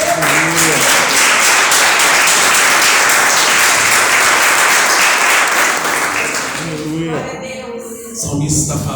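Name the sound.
church congregation applauding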